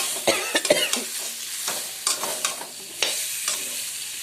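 Food frying and being stirred in a pan for a homemade curry, with soft scraping strokes and a light sizzle coming in short bursts, close and moderately quiet, with no voices.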